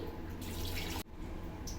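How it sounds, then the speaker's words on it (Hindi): A cup of water is poured into a pot of green chickpea rice, a steady splashing rush that stops abruptly partway, followed by quieter kitchen hiss. "और ऐड करूंगी इसमें मैं 1 कप पानी।"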